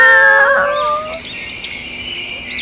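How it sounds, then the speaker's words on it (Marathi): Small chicks chirp in a tree as a storybook sound effect, giving a bright cluster of overlapping high tweets and trills for a couple of seconds, close and fairly loud with no talking. "तिला झाडावर काही लहान पिल्लांची किलबिलाट ऐकायला येते"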